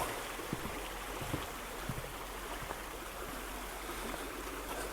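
A river stream flows with a steady, soft rushing of water, continuous and fairly faint, with no voices over it.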